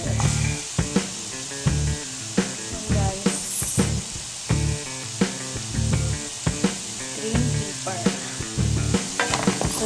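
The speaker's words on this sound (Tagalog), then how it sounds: "Ayan, hahaluin ko lang ng haaluin." Carrots and green pepper fry in oil for vegetable noodles while being stirred, a steady close sizzle punctuated by regular scraping strokes of the utensil against the pan.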